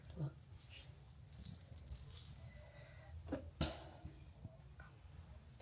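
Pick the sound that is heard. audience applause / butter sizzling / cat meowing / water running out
water running out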